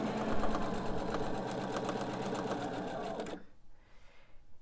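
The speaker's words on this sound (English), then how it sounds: "I'm just going to chain piece right on to the next thing." A sewing machine chain pieces quilt blocks, running in one steady, close stitching burst before stopping abruptly, leaving only faint room noise.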